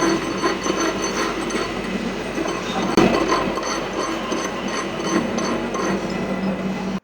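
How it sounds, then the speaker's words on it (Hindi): Small iron pieces being smoothed with a hand file in a hot, tin-roofed workshop give a steady, dense rasping scrape that runs continuously at close range, with no talking. "और फिर मैं इसमें घिसना चालू करता हूँ"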